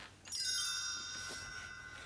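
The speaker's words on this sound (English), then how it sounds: "You will know it is time to turn the page when you hear the chimes ring, like this." A chime rings once to signal a page turn in a read-along storybook, a clear bright tone with shimmering overtones that rings out and then slowly fades while sustaining to the end.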